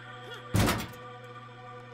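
A grenade going off in the Crow Country video game lands as one loud, dull thunk. A short resonant tail follows, then quiet with a low steady hum beneath.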